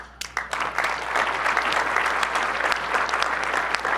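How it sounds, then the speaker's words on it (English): Audience applause at a gadget competition event, clapping that starts with a few scattered hands and quickly swells into dense, sustained applause from a crowd. "I want to give them a round of applause."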